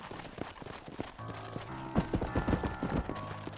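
Horse hooves clip-clop on ground in the Western video game Red Dead Redemption, a quiet, irregular run of hoof strikes with faint mechanical clatter and tonal game sounds underneath.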